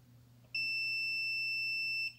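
A multimeter's continuity tester sounds one steady, high electronic beep for about a second and a half against a quiet background hum.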